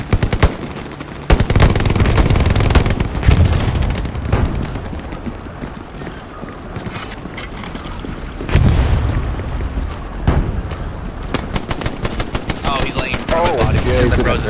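Loud, dense machine gun fire rattles in long continuous bursts during a Hell Let Loose battle for Sainte-Mère-Église, with booming explosions mixed in and voices talking under the gunfire.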